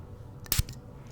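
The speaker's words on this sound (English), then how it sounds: "Let's spray some." A bottle of pomegranate-scented perfume gives one short, close spray hiss, quiet and soft, rising briefly out of a low background.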